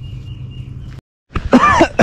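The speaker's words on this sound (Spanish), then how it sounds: "Y yo sigo con la tosedera todavía." A man out catfish fishing coughs: a steady low hum ends, then after a short silence come a couple of harsh, close coughing bursts that rasp like throat clearing, with no speech.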